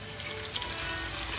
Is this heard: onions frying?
yes